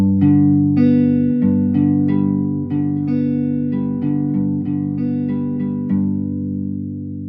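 Guitar strumming on the top four strings in a guitar lesson in standard tuning without a capo: separate picked and strummed notes in a steady pattern, played close and alone with no talking.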